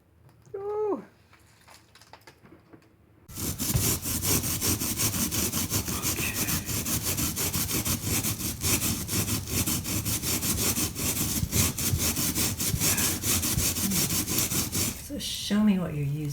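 Steel wool scrubbed against stained glass during a repair gives a steady, loud, rough rasping that runs for about twelve seconds after a brief voice at the start, and a voice returns at the end.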